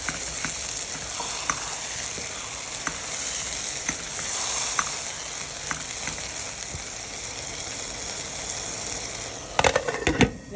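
Yam porridge with chili cooking in a pot gives off a steady sizzling hiss with scattered small pops, ending in a burst of louder clatter and stirring knocks.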